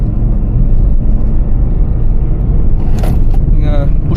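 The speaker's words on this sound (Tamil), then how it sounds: "நீங்கள் புஷ் பண்ணும்போது அந்த இன்ஜினோட ரம்பிள் நாய்ஸ் உள்ளே வந்து கேட்குது." A Nissan Magnite's engine rumbles steadily from inside the cabin as the car accelerates, a continuous low drone with road noise, and a person speaks briefly near the end.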